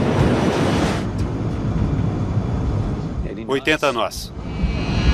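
A Douglas DC-8 jet roars as it accelerates for takeoff, a loud, dense rumble filling the cabin. A voice calls out briefly near the end over the engine noise.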